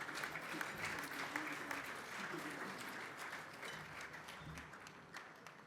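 Audience clapping for a staff member who handles administration, during a talk launching a fitness multimedia platform; faint, steady applause from a small crowd, heard from a distance throughout.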